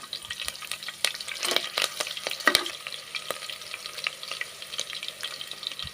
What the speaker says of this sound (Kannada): ಮೆಣಸಿನ್ಕಾಯಿ ಸ್ವಲ್ಪ ಫ್ರೈ ಆಗಬೇಕು.